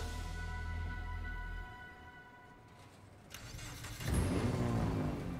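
A car engine in the video game Sleeping Dogs idles steadily, dips quieter, then a loud burst of revving kicks in near the end and holds, close and alone.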